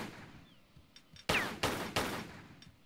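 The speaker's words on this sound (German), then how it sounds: "Schieß die Wand an." Three sharp gunshots from a game weapon ring out in Tomb Raider III as shots are aimed at a wall, evenly spaced and loud against a quiet background, with no talking.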